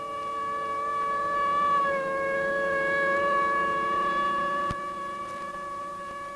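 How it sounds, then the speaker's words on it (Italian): Ambulance siren wailing in Rome rush-hour traffic, a steady sustained tonal wail holding for several seconds, loud and fairly near, with a brief sharp knock partway through. "Arriva un'autoambulanza sirena spiegata"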